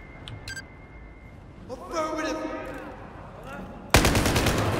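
Enemy gunfire in Battlefield 4 in Singapore: a few faint early shots, then a building rumble and a sudden loud close burst of rapid automatic fire near the end, with people talking over it.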